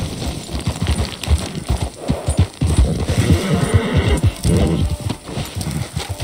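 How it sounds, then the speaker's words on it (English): Rapid rhythmic hoofbeats of a horse clip-clopping up close in the video game Red Dead Redemption 2, with a brief whinny, steady and loud throughout. "Let's leave the horse here."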